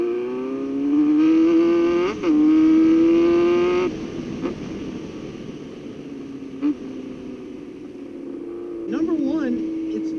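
A Honda Nighthawk S motorcycle engine revs as the throttle is twisted, its tone rising and holding in a sustained drone, then easing and climbing again, with someone talking over the ride.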